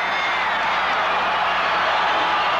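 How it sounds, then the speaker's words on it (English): A wrestling arena crowd roars and cheers as Ken Patera is pinned, a steady, dense wash of noise from a large audience with no single voices standing out. "the crowd goes wild"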